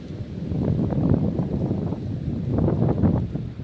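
Continuous downpour whipped by a strong windstorm in Gujarat, a thick rushing wash that swells and eases in gusts, near and unbroken, with no talking.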